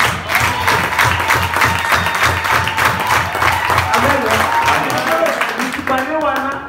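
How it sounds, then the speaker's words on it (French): A church congregation applauding at a worship service, steady rhythmic clapping close and loud throughout, with voices and music underneath and a voice rising near the end. "Applaudissons pour encourager Dieu"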